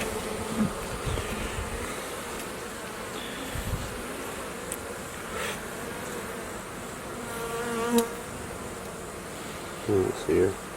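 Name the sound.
honeybees buzzing around a hive frame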